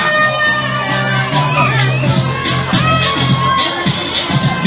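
Crowd cheering and shouting at a school event for children, a loud continuous mass of voices with whoops and calls throughout.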